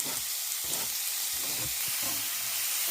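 Chopped onions frying in hot oil in a pan for prawn fry, a loud, dense, continuous sizzle with crackling bursts and occasional stirring thumps, close up with no voices.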